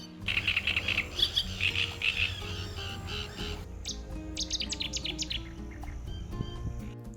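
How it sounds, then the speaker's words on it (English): Many birds sing and chirp together in a lively dawn chorus at the Aras River in eastern Turkey, overlapping trills and tweets at varied distances, with a faint insect hum beneath. "And a chorus of birds follow."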